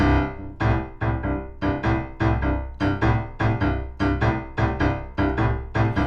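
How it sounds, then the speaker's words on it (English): A boogie woogie piano bass line, a bouncing left-hand pattern of repeated low chords in a steady driving rhythm, played alone. "So the chop is a very famous boogie woogie bass line"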